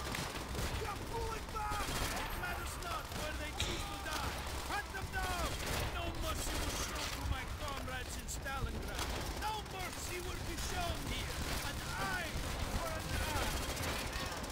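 Rapid, dense gunfire from the World at War shooter game, with bursts of automatic fire and sharp repeated shots layered over one another, continuous and fairly loud, with someone talking over the action.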